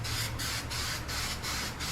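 Aerosol spray paint hisses steadily onto a homemade lantern case in a few close bursts, with brief gaps between sprays.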